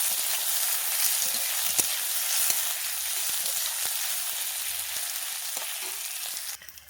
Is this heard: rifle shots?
no